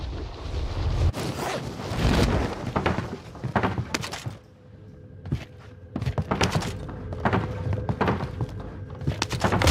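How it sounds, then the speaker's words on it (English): A Nebula V bomb goes off in the distance in Call of Duty Warzone, a series of heavy, muffled booms and thuds that roll over wind noise during a battle royale match. "Nebula 5 bomb has detonated in the distance"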